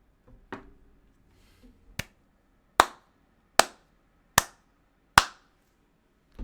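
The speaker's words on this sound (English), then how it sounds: "Sarcastic slow clap." Slow, deliberate clapping: about six single sharp claps spaced evenly under a second apart, close and crisp, with a soft voice murmur at the start.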